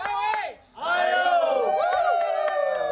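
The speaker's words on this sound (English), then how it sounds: "these residents of Ohio join Johnson and cheer him on as he runs" Ohio residents cheer on a runner more than 2,000 miles into a cross-country run, with a loud continuous crowd of whoops and yells that breaks briefly before swelling again, close by.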